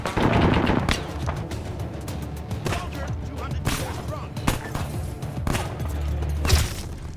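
Sustained gunfire in Arma 3, with a .50 caliber machine gun hammering away in dense, continuous bursts and sharp loud reports during a siege of Kavala, noisy and close throughout.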